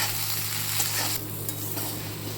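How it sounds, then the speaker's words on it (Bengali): Salted taro stolons (kochur loti) fry in a pan with a loud, continuous sizzle, broken by a few spoon scrapes against the pan as they are stirred. "এটা ভালো করে আমি ভেজে নিচ্ছি।"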